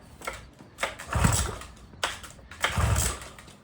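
A 1960s two-stroke outboard boat motor being pulled to start, two strong cranking bursts with brief sputtering that does not catch into a steady idle, heard up close.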